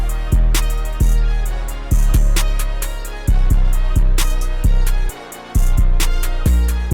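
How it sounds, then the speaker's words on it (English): A trap drum pattern at 132 BPM with booming 808 bass hits, crashes and open hi-hats layered over a busy hat groove, loud and punchy with no voices. "And so all together, the drums sound like this."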